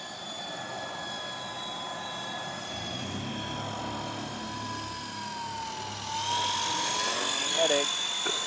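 A cheap four-channel remote-control toy helicopter flies with a steady high-pitched electric motor whine and rotor buzz, rising in pitch and loudness near the end, with someone talking faintly underneath.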